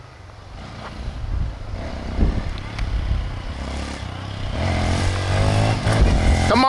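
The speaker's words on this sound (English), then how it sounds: "And then we'll do some off-roading with the Grom." A Honda Grom motorcycle revs during stunt riding and off-roading, the engine rising and falling and building to a louder sustained roar toward the end, with some clatter and scraping, no talking.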